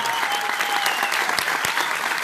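A theater crowd at a concert claps loudly and continuously, a dense roar of hands with a faint sustained tone in the background.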